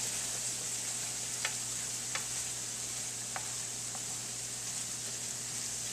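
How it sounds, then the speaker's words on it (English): Peas cooking in a pan give a steady, quiet sizzle throughout, with a few faint light ticks as they are stirred, close but low in level, with no talking. "we're going to continue to cook these peas for a little while until the peas become nice and wrinkly"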